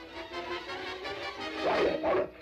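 An animated hunting dog tracking a scent in the 1981 film The Fox and the Hound gives short bow-wow barks and yips, louder toward the end, over a soft music bed.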